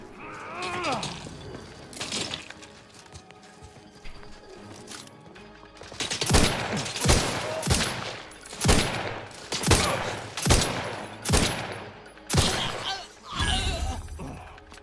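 Gunfire in The Outer Worlds 2 on hardest difficulty: after a few scattered shots, a run of loud, evenly spaced bursts about one per second, booming and close.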